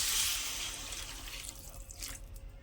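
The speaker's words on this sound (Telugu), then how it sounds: "కొంచెం అట్లా ఫ్రై చేసి వాటర్ వేసుకోండి." Water runs into a pan for cooking Maggi noodles with Saffola oats, giving a steady trickling, splashing pour that is louder at first and then eases off, with no talk.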